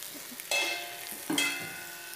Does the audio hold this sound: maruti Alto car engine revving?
no